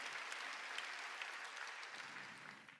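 Church congregation during a Korean sermon claps together in a brief, continuous burst of many hands, heard somewhat distant and fading out at the end.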